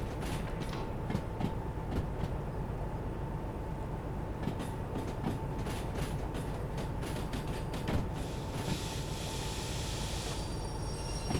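Train being towed in the Derail Valley railway game, a steady mechanical rumble with rail clicks and creaks running throughout, with a brighter hiss building toward the end.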